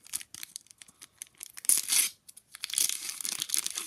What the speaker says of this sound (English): let's open the first pack